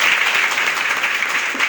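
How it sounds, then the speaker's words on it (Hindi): Sustained applause from an audience at a business seminar, dense and steady clapping with no gaps, fairly loud and filling the whole moment. "तो आप लोग ताली बजा दीजिए"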